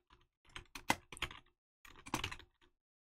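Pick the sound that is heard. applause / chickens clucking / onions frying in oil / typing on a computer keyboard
typing on a computer keyboard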